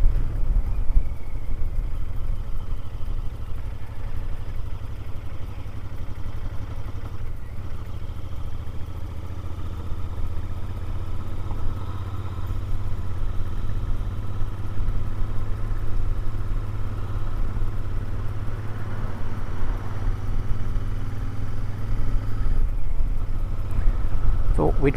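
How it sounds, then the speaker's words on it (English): A Royal Enfield Interceptor motorcycle on a windy ride through the Cotswolds, its engine a steady low drone under rushing wind noise for the whole stretch, with no change in pace. "we're on the Royal Enfield today,"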